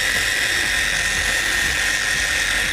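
Mothers Wax Attack polishing machine running on low speed on a car panel, a loud constant high-pitched electric whine with a buzzing mechanical edge, steady throughout and close to the microphone.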